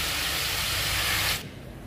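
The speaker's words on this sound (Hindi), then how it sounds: "मैं इसको खूब अच्छे से भूनूंगी" Spices are roasted in a pan for a jackfruit curry. A loud, steady sizzling hiss runs close up, then drops off abruptly to quiet background near the end.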